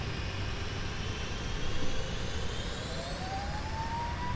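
Simulated jet engines of a PMDG 747-400 airliner in a flight simulator spool up for takeoff at Cape Town, a steady loud roar with a rising whine climbing in pitch throughout.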